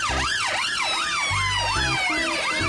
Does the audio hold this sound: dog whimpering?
no